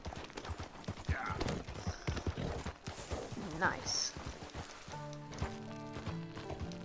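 Horse hooves galloping in the video game Red Dead Redemption, a fast, steady clip-clop rhythm close up that runs throughout, with someone talking over it and some music entering toward the end.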